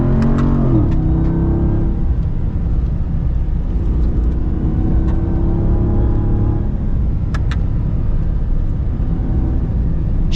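A 2022 Chevy Silverado ZR2 pickup engine revs and strains continuously off-road on a trail, its pitch rising and dropping as it works through gears, close and loud with no voices.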